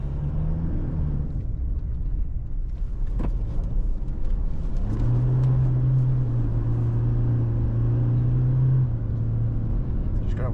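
A 2024 Toyota HiLux GR Sport's engine drones steadily in rear-wheel drive, rising in pitch as it accelerates, heard from inside the cab with a constant low rumble.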